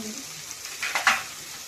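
Vegetables frying in a pan for Maharashtrian masale bhat with ground whole spices just added, a soft steady sizzle building to a few louder hissing bursts of stirring midway.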